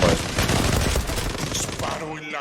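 Rapid bursts of gunfire from the online shooter Zula fill the clip, loud and dense throughout, with a player's voice talking over the shots.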